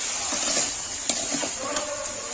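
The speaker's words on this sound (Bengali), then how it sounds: "আলুটা একটু ভেজে নিই" Potatoes for ghugni fry in a pan with a loud, steady sizzle, broken by a few soft scrapes and a light clink as they are stirred; no voices.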